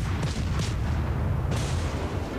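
A destroyer's gun salvo firing in a naval video game: deep booming reports over a heavy constant low rumble, several blasts blending into one another at close range.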